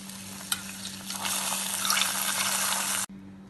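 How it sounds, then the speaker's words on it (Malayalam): Cashews and raisins fried in ghee are stirred into a pot of carrot payasam, a close, soft wet sizzling and stirring that swells, then cuts off abruptly near the end, with no talk. "ഇത് കുറച്ച് അണ്ടിപ്പരിപ്പും മുന്തിരിയും നെയ്യിൽ വറുത്താണ്. ഇത് തീ ഓഫ് ചെയ്ത് പായസത്തിലേക്ക് ചേർക്കാം."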